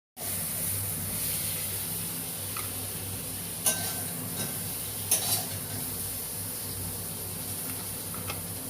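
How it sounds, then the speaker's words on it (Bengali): Banana flower and prawns lightly frying in oil, a soft, even sizzle held steady throughout, with a few brief clinks of a utensil against the pan. "মোচা চিংড়িগুলো একটু হালকা ভাজতে হবে"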